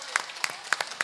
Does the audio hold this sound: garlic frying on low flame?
no